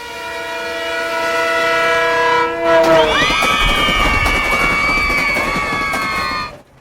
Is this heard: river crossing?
no